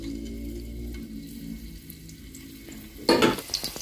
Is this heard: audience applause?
no